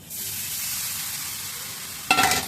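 Fish curry is stirred in a pan, a steady close sizzle and bubbling, then a sudden louder burst of scraping and spattering at the end.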